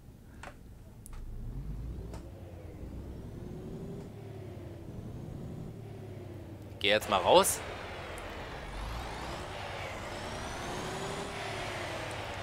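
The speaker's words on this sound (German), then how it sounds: "ich werde den LKW jetzt einfach mal anmachen" A truck in the truck simulator game On the Road starts up and settles into a low, steady rumble, with a brief loud burst midway, while someone talks in German over the engine.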